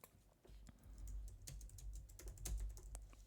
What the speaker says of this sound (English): Hold on, I'm typing in a list of Sega franchises here.